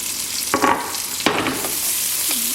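Garlic cloves and ginger sautéing in a pan, a steady close sizzle broken by a few scraping strokes of a spoon as they are stirred, with no talking.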